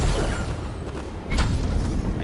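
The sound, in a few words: gunshots in a video game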